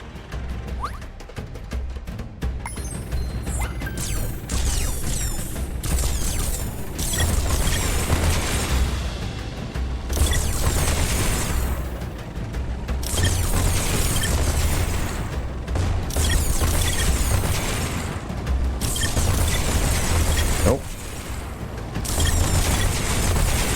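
A cannon fires repeatedly in Skylanders: SWAP Force, loud booming blasts and bursts layered over dense, continuous game action and music, with only brief lulls between barrages.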